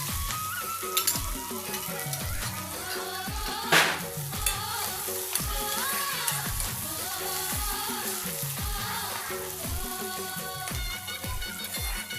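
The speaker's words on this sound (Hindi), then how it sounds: "अभी मैं डाल रही हूँ जीरा अभी मैं डाल हूँ यहाँ पर फोरन है प्याज मिर्ची और" Cumin, onion, chili and fenugreek leaves sizzling in hot oil for a tempering, a steady loud crackle with occasional stirring scrapes, close up and with no voices.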